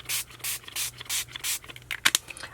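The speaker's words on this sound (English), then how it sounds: "to spritz this across the bottom of my stencil on the page." Tattered Angels spray ink spritzed over a stencil on a journal page: about six evenly spaced, close, soft hissing bursts, followed by a few light taps and rustles.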